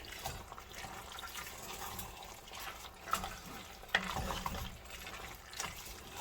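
Fire-roasted diced tomatoes go into a pot of smoky chipotle chili, giving a soft, wet sloshing and trickling with a couple of sharper splats, fairly quiet and with no talking.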